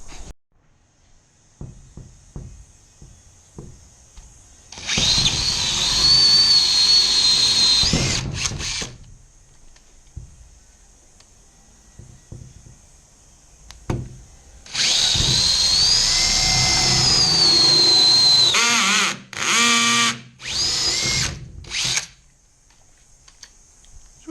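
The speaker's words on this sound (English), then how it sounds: "So I'll get the nibblers out in a minute and we'll cut this out." Nibblers cutting out a car's replacement front splitter: two long, loud, buzzing metallic cutting runs of several seconds each, then shorter choppy bursts, with quieter clicks and handling noises in between.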